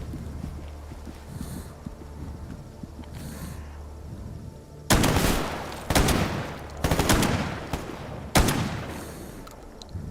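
Gunfire in the S.T.A.L.K.E.R. GAMMA video game, with a low, steady ambient rumble followed by four loud, booming shotgun-style blasts spaced a second or more apart, each leaving a short echoing tail.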